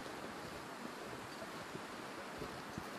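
Steady wind blowing across a snowy landscape in The Long Dark, a broad, even rush of noise that holds without a break for the whole stretch, with no voices over it.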